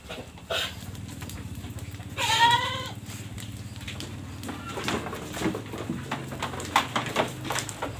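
Free-roaming goats in an open-system goat pen at a model farm in Padang bleat a few times over a steady low hum, with one loud, wavering bleat standing out nearby.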